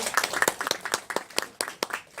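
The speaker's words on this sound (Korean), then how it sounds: "다시 한번 큰 박수를 모시겠습니다" A small seated audience applauds a presenter at an education talk. Distinct individual claps land loosely together in a sparse, uneven patter that stays close and fairly loud.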